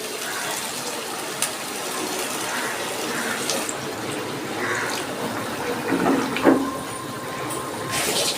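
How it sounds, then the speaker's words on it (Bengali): Water is poured into a pot of spiced potato curry, a close, continuous splashing gush with a few brief spikes of sloshing. "এবার আমি জল দিয়ে দিচ্ছি"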